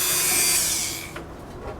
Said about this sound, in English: we're just gonna have to use the Dremel